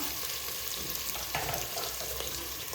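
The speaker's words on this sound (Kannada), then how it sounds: "ಅದು ಕೆಂಪಗಾಗೋವರೆಗೂ ಫ್ರೈ ಮಾಡ್ಕೊಳ್ಳೋಣ." Chicken biryani ingredients sizzle steadily in a hot pan while being fried until reddish, a close, even crackle with faint stirring scrapes and no voices.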